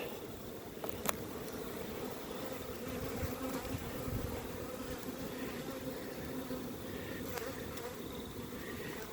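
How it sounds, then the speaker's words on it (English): Steady, dense buzzing of many honey bees close by during a nucleus hive check, a continuous droning hum with occasional louder passes. "So many bees."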